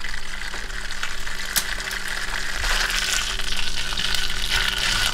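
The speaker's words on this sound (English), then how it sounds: "I am just heating up the noodles." Noodles heating in a pan with olive oil, a steady close sizzle and crackle of frying with occasional small pops, continuous and without talking.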